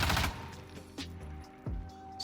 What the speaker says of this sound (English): So firing VHS, no sights, no attachments.